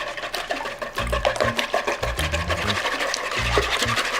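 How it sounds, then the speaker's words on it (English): Eggs for a goat cheese frittata are whisked briskly in a bowl, making loud, rhythmic bursts of scraping and rattling strokes up close with no talking. "We're gonna take our whisk, and we wanna whisk as much air as I can into our eggs."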